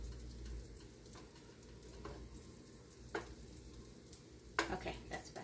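Butter melting in a hot pan for a steak and cremini mushroom sauce, giving a steady low sizzle with a few soft clicks and taps from the pan, close and fairly quiet.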